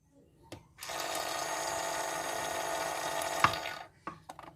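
A battery-powered miniature Daiso toy washing machine runs for about three seconds with a steady, thin motorized buzz and watery pumping, close by. Faint handling knocks come before and after it.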